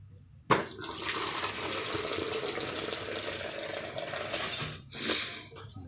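Boiled ketapang leaf extract poured from a pot into a container, a sudden clink at the start followed by a steady close stream of liquid splashing for several seconds, then trailing off with a few drips and soft knocks.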